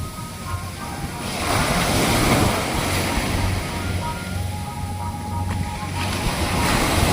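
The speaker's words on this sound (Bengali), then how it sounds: "বাতাসের তাড়নায় উত্তাল ঢেউ এখানে আছড়ে আছড়ে পড়ছে" Big wind-driven sea waves crash and break onto the shore in a continuous roaring surge, with gusty wind buffeting the microphone throughout.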